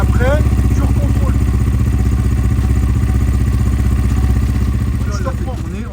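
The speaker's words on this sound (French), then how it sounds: "Cédric rallume l'essence, il va la faire tourner au ralenti" An ERZ 300 LC motorcycle engine idles steadily after an oil change, a close, even rapid putter with light mechanical clatter that carries on unbroken and fades slightly toward the end.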